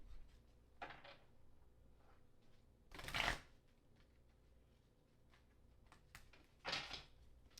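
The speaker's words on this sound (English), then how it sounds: "That was a terrible shuffle." A deck of tarot-style reading cards is shuffled by hand in a quiet room: a few short, soft riffling bursts separated by pauses and faint handling rustles.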